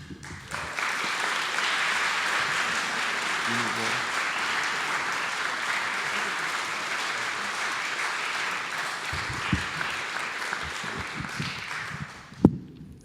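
Audience at the Burlington Book Festival opening ceremonies breaks into warm, sustained applause lasting over ten seconds, steady clapping that tapers near the end, with a sharp knock just before it fades.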